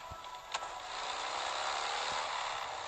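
A motorcycle engine in the survival game Last Day On Earth runs at a steady idle, a broadband hum that settles into an even drone after a brief soft click near the start.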